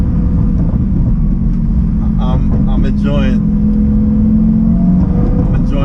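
A 2008 Lamborghini Gallardo engine drones steadily from inside the car while driving, a constant low hum with a brief rising tone near the end, under someone talking throughout.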